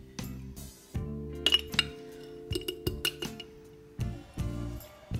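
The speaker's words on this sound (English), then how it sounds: "And we're just gonna give that a stir." A spoon stirs egg white powder into a cup of water, clinking repeatedly against the cup in quick, irregular bursts with short pauses, close and fairly loud.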